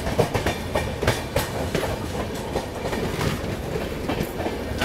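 The Chalukya Express, a Pondicherry–Dadar train on the diesel route, rolls past a station platform, with steady close rumble and rhythmic clickety-clack of wagon wheels over rail joints throughout.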